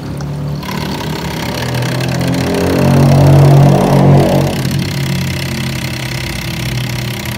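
A goldfish aquarium filter pump hums loudly and continuously nearby, a low motor drone that swells slightly midway and then settles.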